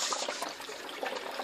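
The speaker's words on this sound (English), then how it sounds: "this starts pumping water, overflows to the bottom" Water from a small solar-powered pump pours into an aquaponic tray in an off-grid greenhouse, a steady close splashing and trickling rush with no voices.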